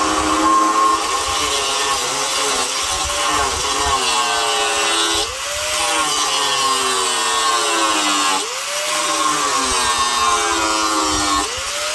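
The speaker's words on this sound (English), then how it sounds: "I spent some time today with the grinder trying to wear that sucker out." Angle grinder working on welds on a rusty Toyota Tacoma frame, a loud sustained abrasive whine whose pitch dips and recovers a few times as the disc bites into the metal.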